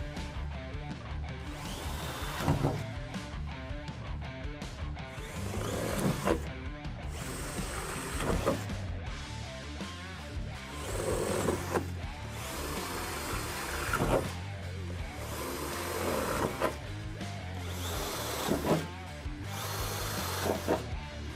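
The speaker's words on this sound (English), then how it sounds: "I'm gonna take a 1/4 inch drill bit and drill the front and rear hole to a 1/4 inch" A power drill with a 1/4 inch bit bores front and rear holes into the roof of a 2017-2022 Ford Super Duty truck for cab lights, a steady whirring grind rising and falling in repeated bursts, close and loud with no talking.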